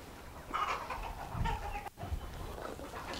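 Chickens clucking on a poultry farm, a few close low clucks and squawks over a busy barnyard background.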